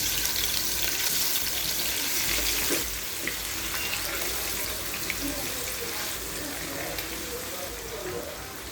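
Marinated hilsa fish slid one by one into hot oil for hilsa polao, giving a steady, close, hissing sizzle that softens slightly partway through.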